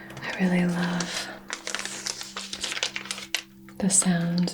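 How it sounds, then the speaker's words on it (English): A paper incense wrapper crinkles and rustles close up in irregular bursts throughout, over a steady low hum. "Most incense has like a nice paper kind of wrapper, and it's just such a nice sound."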